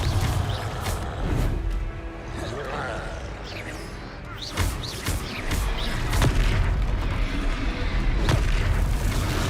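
Confringo blasting spells explode in Hogwarts Legacy amid combat, several sharp booms and crashes with rumbling low impacts through a dense, noisy battle mix.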